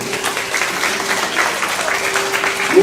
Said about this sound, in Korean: 하나님께 감사의 박수.